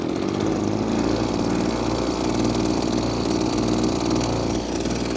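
A Pollwon petrol high-pressure sprayer engine catches on the first pull and runs steadily close by, a loud, even buzzing drone with no talk.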